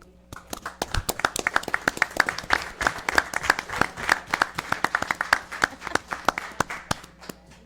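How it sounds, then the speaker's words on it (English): Scattered applause from a modest audience at a county fiscal court meeting, honoring recognized individuals: distinct individual claps in an irregular, fairly sparse rhythm for several seconds, moderately close in a room. "it would go for a round of applause for them"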